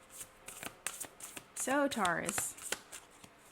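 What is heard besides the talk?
tarot cards being shuffled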